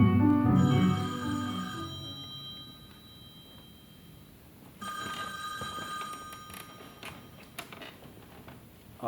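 An old-style telephone bell rings on a theatre stage, loud at first and then fading, followed by a second, quieter stretch of ringing with faint room noise.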